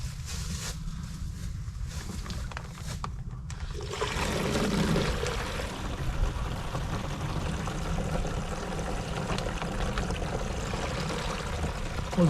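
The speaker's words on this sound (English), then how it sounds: "So, all right, I'm gonna start emptying these." Maple sap poured out of collection buckets outdoors, a loud continuous splashing pour that starts after a few seconds and runs steadily to the end, close by.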